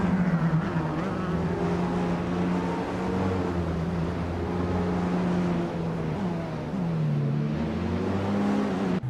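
Race car engine noise at the start of a video game race on the Shanghai track, with a 2012 Morgan LMP2 among the field: a steady, loud, sustained droning engine tone that dips and rises slightly.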